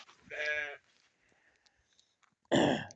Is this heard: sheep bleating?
yes